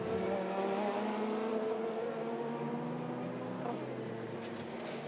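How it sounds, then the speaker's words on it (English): Le Mans race cars roar past at the 2021 24-hour race, engines droning loud and steady with pitch sliding down as they pass. "Off it slides, bounces off the tyres, but beached in the gravel now."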